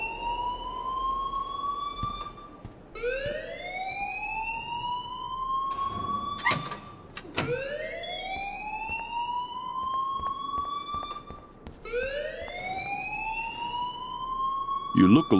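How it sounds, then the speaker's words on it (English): A rising and falling electronic siren-like alarm wails in long repeating sweeps inside the video game Life is Strange, with people talking under it and a few sharp clatters in between. "please turn off that alarm since that's your job."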